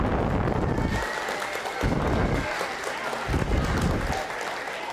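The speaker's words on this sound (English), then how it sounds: "big round of applause" A crowd at an elementary school cultural program gives a big round of applause, loud continuous clapping with scattered cheers and low thumps swelling and easing.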